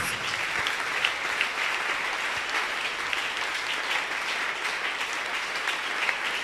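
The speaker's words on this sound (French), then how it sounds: "Clap for Jesus Christ." A church congregation claps for Jesus Christ in steady, dense applause that stays loud and even from start to finish, with no pauses and no talk over it.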